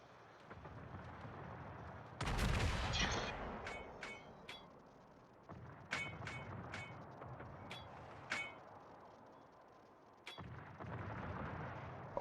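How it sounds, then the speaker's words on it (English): German battleship secondary guns firing in a naval video game, with a big deep boom followed by a string of sharp, evenly spaced cracks and distant rumbling, moderately loud with no voices. "I always enjoy seeing these German battleship secondaries go into work."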